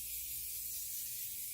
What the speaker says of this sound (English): That is my Morphe setting spray.